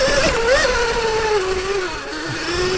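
A Surron electric dirt bike's motor whines loudly and close up as the throttle is revved mid-jump, the pitch climbing and wavering before settling into a sustained drone.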